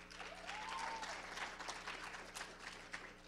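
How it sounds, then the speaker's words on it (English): Faint, distant audience applause for a contestant at a Mr. & Miss Hospitality pageant, soft and scattered over a low steady hum. "Let's have another round of applause for contestant number 2."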